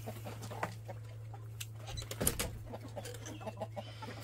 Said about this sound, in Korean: 이제 얘들은 재래닭입니다.